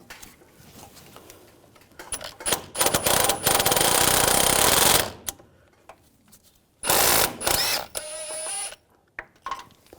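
A ratchet wrench with an 11mm socket loosening a steering rack bolt on a 2015-2018 GMC Sierra 1500 5.3L V8: rapid clicking bursts, two long loud runs separated by quieter clinks and tool handling nearby.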